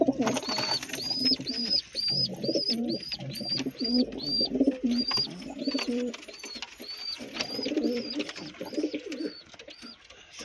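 A flock of high-flying pigeons with chicks and eggs cooing together in a steady, overlapping chorus of low throaty calls, with high chirps from other birds scattered throughout.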